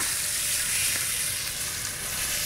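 The fat side of a steak stood on edge sears in a hot pan, giving a dense, continuous loud sizzle with no talking.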